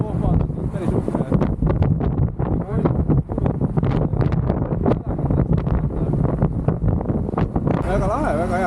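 Strong wind buffets the microphone on the open top deck of a red hop-on hop-off sightseeing bus in the Canary Islands, a constant loud rumbling roar with gusty surges, and a voice talks over it throughout.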